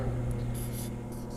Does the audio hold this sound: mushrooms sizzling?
no